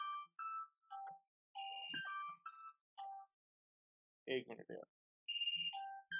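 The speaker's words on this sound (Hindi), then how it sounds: "कौन सा फोन बज रहा है अभी ये?" A mobile phone rings in a classroom setting, giving out a bright melodic ringtone in repeated short tonal bursts, with a voice briefly breaking in between the tones.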